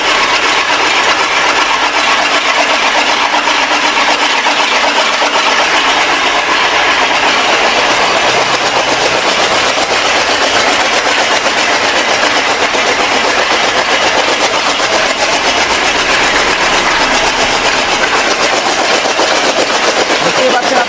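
A motorized chaff cutter chopping fodder for goats on a farm gives a loud, steady, broadband mechanical whir and rattle that runs unbroken for the whole stretch.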